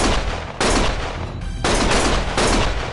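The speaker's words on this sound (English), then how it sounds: "Stop shooting!" Gunfire in the video game Lost Judgment: loud, sustained automatic bursts, dense and close, broken by a brief gap before resuming and continuing to the end.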